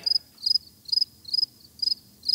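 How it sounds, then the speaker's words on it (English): Crickets chirping as a sound effect, six evenly spaced bursts of rapid high-pitched trills, clear and alone against near silence. "Crickets?"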